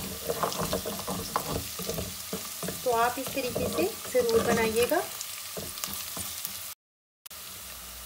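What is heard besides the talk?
onions frying in a pan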